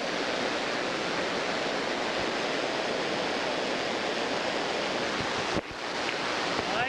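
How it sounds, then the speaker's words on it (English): Turbulent high river rapids below Niagara Falls on the Canadian side, a steady loud broadband roar of churning water that fills the whole clip, with a brief dip near the end. "Those waves are certainly high."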